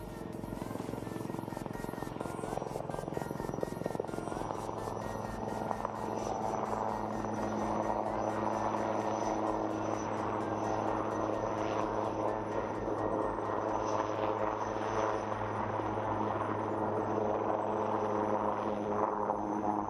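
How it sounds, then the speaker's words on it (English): A military LCH light combat helicopter's rotor chops loudly and steadily with a droning engine whine, hovering close by for the whole stretch as it moves sideways parallel to a runway at an air show flying display. "The helicopter will now perform some sideward movement parallel to the runway."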